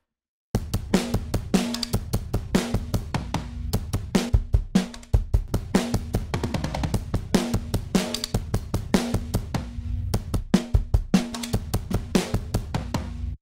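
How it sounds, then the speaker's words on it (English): Guitar through a Dist TUBE-CULTURE tube distortion in its default triode valve mode, playing a fast, busy rhythmic riff with dense muted strums and accents, loud and continuous throughout. "It is set to triode mode by default,"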